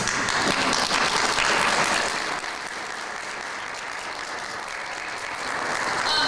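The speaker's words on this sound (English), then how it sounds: "Children, will you give your grown-ups a round of applause, please?" An audience of grown-ups applauds steadily at a school spring band concert, a dense wash of clapping that runs the whole stretch, dipping slightly midway before swelling again.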